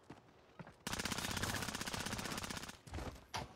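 Sustained automatic gunfire in a video game, a long rattling burst of rapid shots lasting several seconds, followed by shorter bursts, loud and close with no talk over it.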